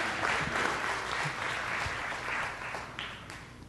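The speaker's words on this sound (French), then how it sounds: "On l'applaudit, c'était merveilleux." A church congregation applauds during a Sunday service, a sustained wash of clapping from many people that fades slightly toward the end.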